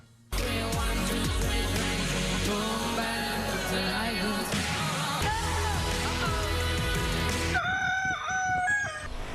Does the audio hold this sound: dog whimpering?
no